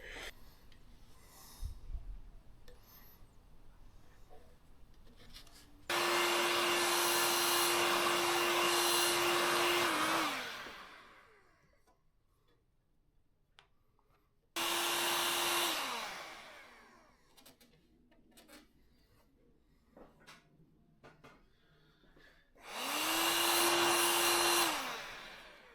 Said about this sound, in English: the easiest way to install these tank protectors is by using a heat gun